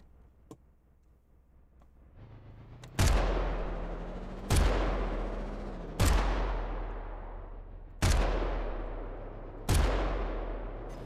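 Five heavy video game gunshots from the Trace Hunters demo boom at roughly even intervals, each with a long echoing decay, loud and isolated against a quiet background.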